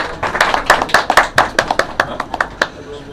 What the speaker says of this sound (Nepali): उहाँको लागि यहाँ सबैजनाले जोरदार ताली बजाइदिनु होला प्लिज